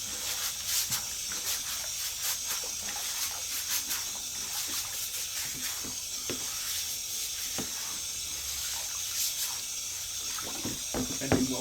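A barbecue grill is scrubbed clean of greasy buildup, giving a steady close-up scratchy hiss with scattered sharp scrapes and clicks throughout, with no talking.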